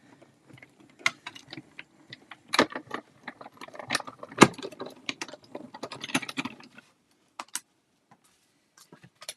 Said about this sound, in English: let's run these through the die cut machine